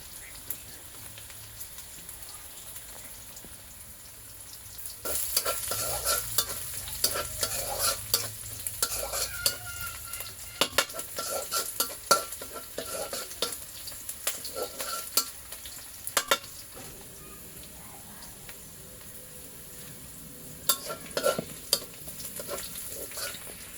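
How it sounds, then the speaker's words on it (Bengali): Onions and chilies are stir-fried in a pan for a papaya dish, giving a steady sizzle broken by frequent scraping and clattering stirs that grow busier after the first few seconds, with no talking. "এখন আমি এগুলো ভালো করে ভেজে নিব, নেড়ে ভালো করে ভেজে নিব"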